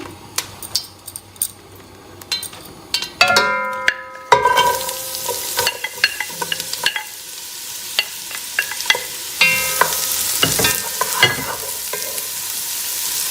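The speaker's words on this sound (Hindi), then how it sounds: "उसको आपने थोड़ा सा हीट करके उसमें ऑयल डालेंगे और प्याज डालेंगे" Onions drop into heated oil in a pan: scattered clinks and utensil taps come first, then a loud sizzle bursts in and keeps crackling steadily. Spatula scrapes and metallic clatter punctuate it throughout.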